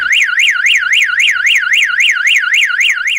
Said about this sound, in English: That's the demo done of the S series alarm system by StarLine.